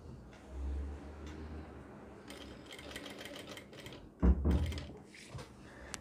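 A sewing machine runs a loose tacking stitch around a front neck design on a garment, whirring in short bursts with a louder thunk partway through and no talking.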